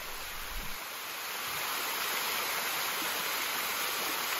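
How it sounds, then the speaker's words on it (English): A waterfall in Chiang Mai roars as a steady, close wash of broadband rushing water. It sounds loud and continuous, with no voices. "It's kind of crazy how we're climbing this waterfall."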